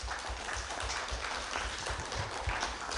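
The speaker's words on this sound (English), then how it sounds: "Let's give them all another great big Dogwood Radio Mystery Theater round of applause." Steady indoor audience applause after a live radio mystery theater performance by a university theater department, sustained and even-level clapping filling the whole stretch with no talk over it.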